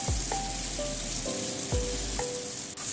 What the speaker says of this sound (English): Stir fry until there's no red meat and the color is a little brown.